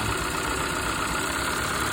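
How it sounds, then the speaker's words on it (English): A car engine runs at a steady idle after one cylinder's lead is plugged back in. It gives a constant, close rumbling drone with a slightly uneven, knocking texture and no talking. "You can hear a difference in the way the motor is running"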